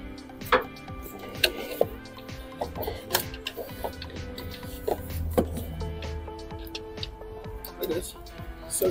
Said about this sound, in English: I think I might use the ratchet now.